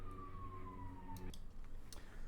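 An emergency vehicle siren wails with a long descending tone that cuts off abruptly, followed by brief clatter and background noise.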